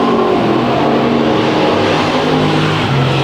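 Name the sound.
dirt track race cars racing out of turn 4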